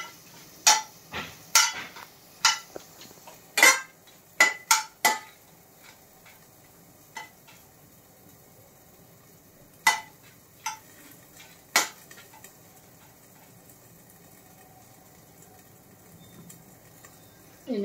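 Four dry red chillies tossed in a pan without oil over low heat, sharp irregular clicks and taps of metal against the pan, some in quick clusters and others scattered, with a faint sizzle underneath.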